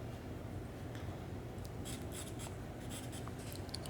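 Pencil scratching and rubbing across paper during a portrait sketch, a steady close rasp with quick brighter strokes in the second half.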